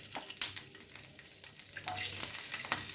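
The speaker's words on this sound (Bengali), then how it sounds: "কড়াইয়ে একটু কালো জিরে ফোড়ন, আর দেব রসুনের কোয়াগুলো" Nigella seeds and garlic cloves sizzle in hot oil in a wok, a steady crackling fry with a few sharper pops and stirring scrapes, close and continuous with no talking.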